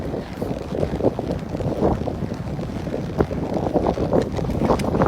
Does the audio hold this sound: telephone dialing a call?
no